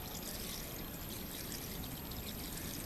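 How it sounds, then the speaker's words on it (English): Water pours onto hibiscus cuttings in a 4-inch pot, a soft, steady wash of running water held at an even, fairly quiet level with no speech. "I'm going to water this well"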